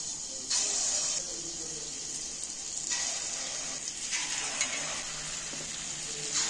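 Spoonfuls of sweet palm fritter batter dropped one by one into hot white oil, a bright steady sizzle with fresh bursts of crackling as each new spoonful goes in, close and with no speech.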